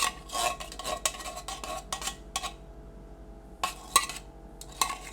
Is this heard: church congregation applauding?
no